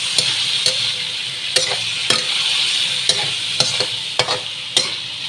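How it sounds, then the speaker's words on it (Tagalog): A mixed dish with shrimp is stirred and fried in a pan, with a steady loud sizzle broken by sharp, irregular scrapes of the utensil and no talk. "Pinaghalo ko na para"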